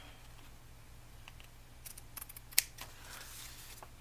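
Scissors trimming off excess material while making a soft cover journal, a few quiet snips with one sharp close cut standing out over faint background hum.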